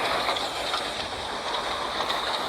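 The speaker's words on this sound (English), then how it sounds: "Thomas and Oliver soon puffed down the main line again." Cartoon steam train puffing along a main line, a steady broadband hiss and chuff with faint rail clatter, continuous and moderately loud throughout, no voices.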